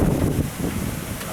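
Storm winds buffet the microphone outdoors in Laughlin, Nevada, a loud, gusty, low rumble that surges strongest at first and then eases into a steadier roar.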